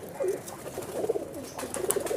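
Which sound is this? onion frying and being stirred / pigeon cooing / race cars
pigeon cooing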